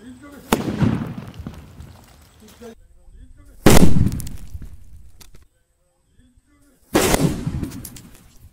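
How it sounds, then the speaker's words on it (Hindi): An Indian Tiger sutli bomb firecracker blasts three times in succession, each a loud, sharp bang trailing into a rumbling decay, separated by quieter gaps. "अब टेस्ट करते हैं इस वाले इंडियन टाइगर के सोतेली बम को।"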